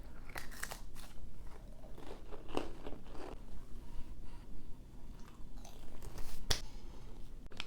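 A cracker topped with apple butter from a 2010 MRE ration being chewed, with steady close crunching and occasional sharper bites over continuous background noise.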